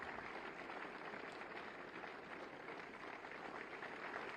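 Sustained applause from a large audience at a ceremony where appointment letters are handed to homeopathic pharmacists, a steady wash of clapping filling the whole stretch at a moderate distance.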